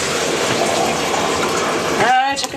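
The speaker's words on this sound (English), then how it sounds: "You're getting a bath too." Water splashes and gushes steadily as a pet bird gets a bath, a running-water wash sound that fills most of the moment and ends with a short burst of higher splashing.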